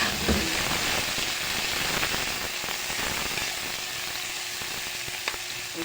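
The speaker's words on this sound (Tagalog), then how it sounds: "Ngayon, iigisa ko po yung bawang, sibuyas at kamatis." Garlic, onion and tomato sautéing together in a hot pan give off a steady, close sizzle and hiss, with a few faint clinks and stirring sounds partway through.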